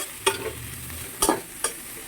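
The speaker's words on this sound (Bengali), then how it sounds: "তো হালকা একটু জলের ছিটে দিয়ে দিলাম" A little water splashed onto greens frying in a pan, giving three quick crackling bursts of sizzle over a soft background hiss.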